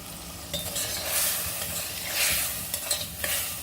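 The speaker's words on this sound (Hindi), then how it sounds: "अब इसे मिक्स करके इस तरह से चलाते जाएंगे।" Potatoes and peas being stirred as they fry in a pan, with a continuous sizzle and intermittent scraping and clattering strokes of the spoon, close and fairly loud, no voices.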